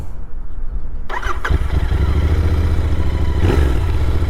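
A Royal Enfield Continental GT 650 motorcycle engine roars to life with a clattering start, then settles into a loud, steady exhaust rumble with a faint whistle and a throaty grunt as it revs.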